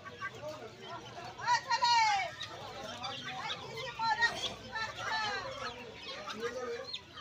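Kadaknath chicks and grown chickens at the Uluberia hen market fill the air with high repeated peeping and steady clucking. The birds sound close and busy, with market voices murmuring underneath.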